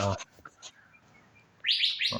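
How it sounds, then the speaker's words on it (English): A wild bird chirps outdoors on a cold day, with a short call at the start and then a louder burst of rapid, high tweets near the end, all close and clear against a quiet background. "I don't know what the kind of bird that is"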